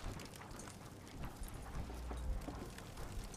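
Soft, rhythmic clip-clopping of horse hooves trots along steadily beneath a noisy, hissing background, fairly quiet throughout, in the video game Fallout 4.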